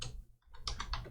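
Several quick keystrokes on a computer keyboard, typing a Minecraft command, in a short close burst of clicks after a brief pause.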